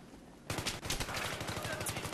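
Rapid automatic gunfire from the video game Battlefield 3 erupts abruptly after a quiet start and keeps going as a dense, fast burst of shots in a corridor, fairly faint overall.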